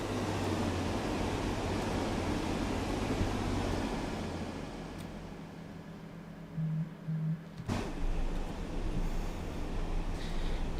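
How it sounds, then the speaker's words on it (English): A train rumbles past in the video game Train Sim World 4, a steady broad roar of wheels and running gear that eases off, with a couple of brief low tones and a sharp clack near the end. "Let's watch our train go by."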